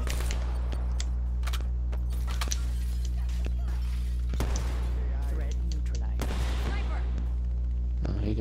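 Gunfire in Call of Duty Black Ops 3 multiplayer, with rapid sharp shots and bursts cracking repeatedly over a steady game backdrop, mixed with voices.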